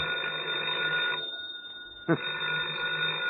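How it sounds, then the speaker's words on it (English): Telephone ringing in a darkened room, an electronic ring that pauses briefly, with a short thump, then resumes; a narrating voice runs underneath. "Oh, the phone again."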